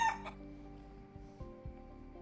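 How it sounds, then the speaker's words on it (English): A short chicken-sound stream alert plays quietly, with a rooster-like crow and clucks at the start, followed by faint low thumps. "are we going to have extended chicken sounds too?"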